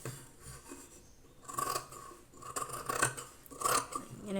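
Scissors snip through blouse fabric during tailoring, giving several short, close crisp cuts and rasping slides in uneven bursts. A quieter hush fills the gaps and no one speaks.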